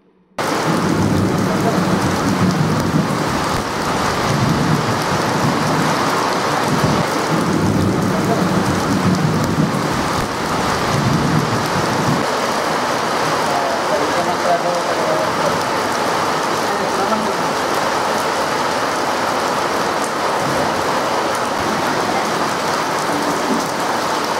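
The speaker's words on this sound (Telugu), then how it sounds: "తాంసీ మండల కేంద్రంతో పాటు పలు గ్రామాల్లో ఉరుములు మెరుపులతో కూడిన వర్షం కురిసింది" A steady heavy downpour in Tamsi mandal, Adilabad, with rumbling thunder, rain hissing continuously for the whole stretch and the deeper rumble strongest early on.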